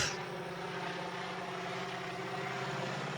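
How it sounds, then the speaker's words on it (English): A crop-spraying plane passes overhead with a steady, fairly loud engine drone and propeller hum that holds constant throughout, with no voices. "It's a plane coming, about to spray us."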